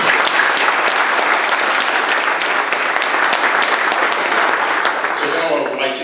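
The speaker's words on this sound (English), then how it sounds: "So let's give them a round of applause." Sustained audience applause at a State of the County morning session honoring event sponsors, dense and steady, with the clapping thinning near the end.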